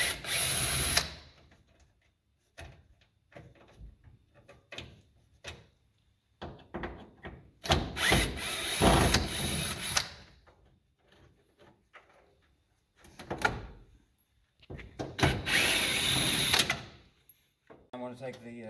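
Trim screws come off the side door of a 1974 vehicle, with bursts of a power driver whirring and intermittent clicks and clatter. Quiet gaps separate the bursts, and a person talks at times.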